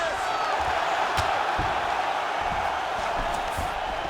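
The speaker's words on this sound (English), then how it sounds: "huge pop from the crowd as the fighters get back up to their feet" A video game arena crowd in UFC 5 roars in a steady, dense wash of cheering, with a few sharper shouts and thumps rising above the constant din.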